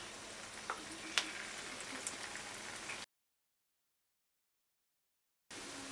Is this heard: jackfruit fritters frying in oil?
yes